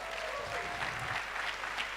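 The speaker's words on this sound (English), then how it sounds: "Another big round of applause." An audience applauds at a televised announcement event, giving a dense, steady wash of clapping from a crowd that holds at even loudness throughout without a break.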